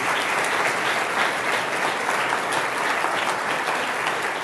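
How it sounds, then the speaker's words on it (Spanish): Steady, dense applause from a congregation during a Spanish-language church service, continuous and fairly loud throughout with no pauses. "Démosle un aplauso al Rey bendito"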